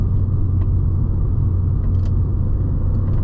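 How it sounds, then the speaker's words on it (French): An Audi TT with a turbocharged engine on the road, a steady, loud low rumble of engine and tyres from inside the car, with no clear turbo whistle standing out. "On sent vraiment le turbo qui souffle."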